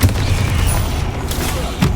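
A Bombarda blasting spell in the video game Hogwarts Legacy gives a deep, rumbling boom that carries across the whole moment, with a second sharper burst near the end, amid steady game noise.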